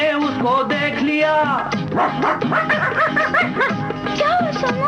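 A storyteller imitates a pack of village dogs, barking and yapping in a loud, busy stream of voiced woofs and whines, close and continuous.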